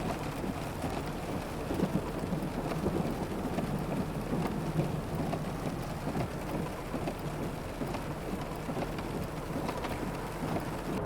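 Heavy rain from a thunderstorm drumming on a moving car during a drive through Utah, a steady wash of downpour with low rumbling thunder beneath, continuous and close, no talking.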